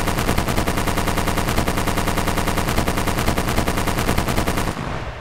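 Rapid automatic gunfire in Arma 3, aimed at a box: a loud, steady stream of evenly spaced shots lasting several seconds before cutting off abruptly near the end, with no talking.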